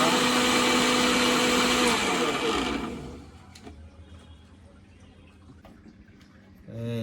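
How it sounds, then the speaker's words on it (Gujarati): A mixer grinder whirs loudly and steadily as it blends mango pieces into juice in a Gujarati village kitchen, then cuts off after about three seconds, leaving faint clinks and low room noise. "ટુકડા નાખીને મિક્સરમાં કાઢી નાખો એટલે રસ થઈ જાય તમારો મસ્ત"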